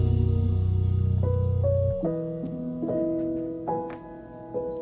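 A mellow keyboard-like instrument plays a slow 4-5-3-6 song outro chord progression, each chord changing every second or so, calm and alone with no voices.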